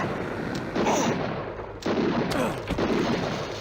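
Shotgun blasts in the horror video game Harvester, a couple of loud booming shots with a short reverberant tail, close and alone without talk.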